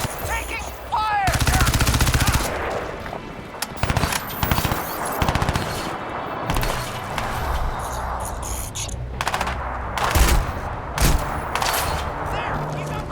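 Rapid bursts of automatic gunfire in a video game running on a Radeon HD 5870 graphics card, loud and repeated, with sharp single shots and other game effects between the volleys.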